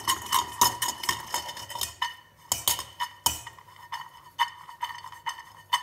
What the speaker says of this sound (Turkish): Fıstığı eziyorum.